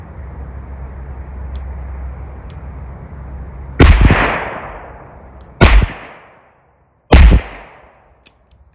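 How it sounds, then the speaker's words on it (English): Three loud, close revolver gunshots firing reloaded .38 Special rounds outdoors at a target, evenly spaced a couple of seconds apart, each with a ringing decay, over a low steady rumble. "Got 3 rounds, so I'm going to try to shoot the top 3 on the right here."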